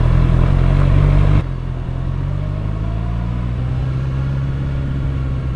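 A motorcycle engine rumbles steadily, loud and close, with a sharp drop in level early on before settling into a continuous low drone.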